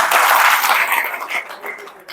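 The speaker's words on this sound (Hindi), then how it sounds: "शाबाश, ताली बजाओ भाई जो रोज ये मुरली सुने।" An audience claps at a spiritual gathering, a dense burst of applause that is loudest at first and then thins into scattered claps.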